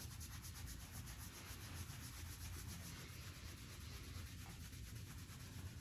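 Hands scrub briskly over the shoulder during a qigong routine, giving a continuous, close rubbing and brushing sound of skin and clothing in a fast, even rhythm, with no talking.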